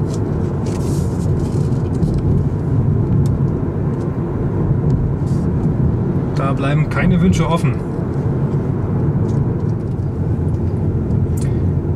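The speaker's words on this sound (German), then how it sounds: "Das Einzige, was ich jetzt wahrnehme, sind Rollgeräusche." Tyre rolling noise inside a Kia e-Soul electric car on the move: a steady, even low rumble and hiss fills the cabin the whole time, with someone speaking briefly over it.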